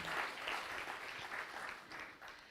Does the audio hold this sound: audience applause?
yes